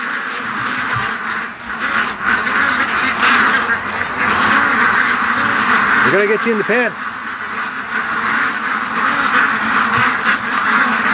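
Ducks being herded into a pen quack in an agitated, overlapping flurry, loud and close, with a person talking over them throughout.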